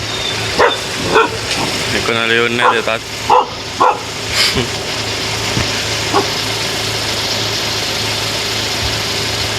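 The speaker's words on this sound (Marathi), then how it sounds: "हे मित्रांनो हे कुत्रे आहेत." Dogs bark in several short, close bursts while a person talks, with an engine idling steadily in the background.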